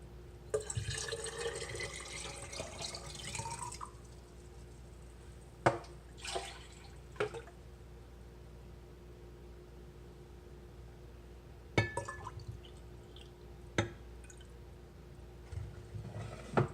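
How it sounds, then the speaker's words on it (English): Cool water poured into a jar while making water kefir, a soft steady pour at first that fades. A few sharp clinks and taps follow, and the rest is quiet. "And then you're going to add 3 cups of cool water."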